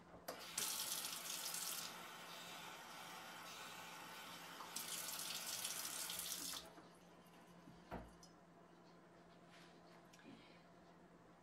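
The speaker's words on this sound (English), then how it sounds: "I'm gonna add some water" Water runs steadily from a tap into a jar of sprouting seeds for about six seconds, a bright rushing stream, then stops, leaving a quiet room with a single soft knock.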